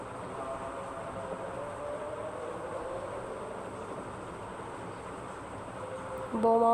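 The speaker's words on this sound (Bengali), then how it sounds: "এই যে ট্রেনটা চলে আসলো দেখতে দেখতে" A Dhaka metro rail train pulling into the station gives a steady, rising rumble that swells near the end, where a clear multi-tone chime sounds over it.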